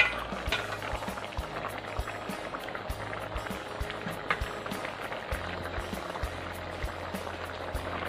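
Catfish coconut curry with noni leaves simmering in a pot, a steady dense bubbling and gurgling with soft irregular pops running continuously throughout, fairly close and unaccompanied by talk.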